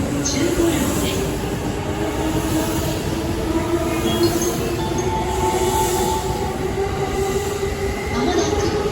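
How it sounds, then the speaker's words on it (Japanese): A train arrives at Funabashi station platform, a continuous loud rumble of rolling wheels and carriages with faint squeals, close by, under a platform announcement voice. "まもなく4番線に快速成田空港行きが参ります。"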